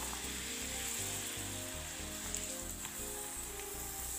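A papadam fries in hot oil with a steady, close crackling sizzle, dense and even throughout with no voices.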